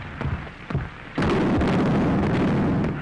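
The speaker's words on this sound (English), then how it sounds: "the stupid field artillery. They're shooting the wrong way." Field artillery firing in a 1931 film scene, heard as a couple of dull thuds followed by a sudden sustained loud roar of bursts and rumble, alone with no speech.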